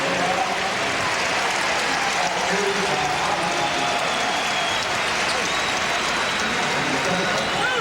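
Crowd applause fills a college basketball arena during a Kansas Jayhawks game against Rice, a broad steady wash of clapping and crowd noise holding for the whole stretch, with faint voices mixed in.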